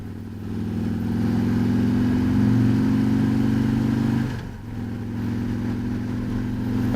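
A 2019 Harley-Davidson trike engine drones loudly and steadily, with a brief dip partway through like a gear change before the engine note resumes.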